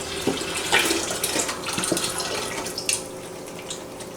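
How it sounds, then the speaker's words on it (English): Water poured into a cooking container until it is about half full, a steady splashing rush close by with a few louder gurgling surges, heard alone without talk. "I'm also going to take some water, about half the container full of water, just to really stretch everything out"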